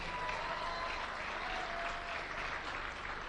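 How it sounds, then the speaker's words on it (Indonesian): Sustained applause from a seminar audience at a motivational talk, a fairly faint but even blanket of clapping hands with no voices standing out. "Tepuk tangan dulu dong buat upline Anda ini."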